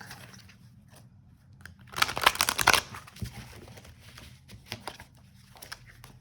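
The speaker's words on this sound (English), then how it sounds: "hope I'm not giving people anxiety by shuffling sideways" Oracle cards are shuffled sideways by hand, giving a burst of crisp riffling and crinkling in the middle, then a few scattered soft taps and rustles in an otherwise quiet room.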